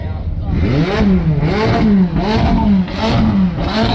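A McLaren sports car at a car meet revs its engine in rising and falling pulls, several loud swells in a row up close, with people talking over the sound.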